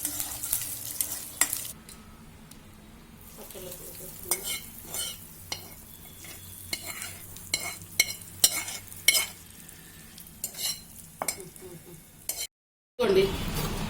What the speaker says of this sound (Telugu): మన పోపు గింజలు అన్నీ వేగేసినాయి